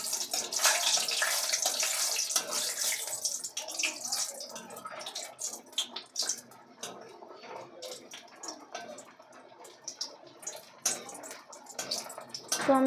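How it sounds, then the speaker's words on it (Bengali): Banana flower chops sizzling and crackling in hot oil over a low gas flame, a steady close hiss with dense popping bubbles throughout, no voices. "এদিকে যে তেলটা গরম হয়ে গেছিলো তার মধ্যে এটা দিয়ে দেবো।"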